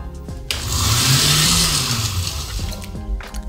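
A blender whirs loudly for a few seconds, its motor pitch rising and settling as it churns milk, then switches off.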